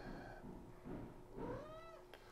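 A cat gives two drawn-out, complaining meows close by, the second rising and bending in pitch, with faint room noise behind.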